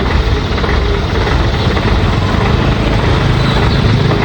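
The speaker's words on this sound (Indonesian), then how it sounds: "Oh, truk." A truck engine idles steadily throughout, a loud, continuous low rumble close by on a roadside in Bekasi, with no talk.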